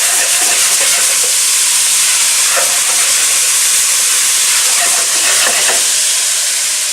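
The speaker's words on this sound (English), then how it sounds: "Give it a good stir." Red lentils are stirred in a pan for a spicy dhal soup, giving a loud, continuous sizzling hiss with a few scraping bursts and no talking.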